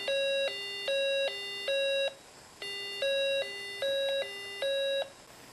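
An electronic ring tone from a square-wave circuit alternates between two pitches in a steady warble, sounding in three-burst groups with a short pause between, loud and clear.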